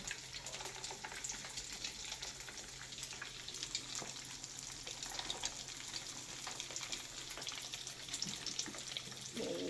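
Faint, steady crackling sizzle of food frying in oil, continuous throughout with small pops and hiss.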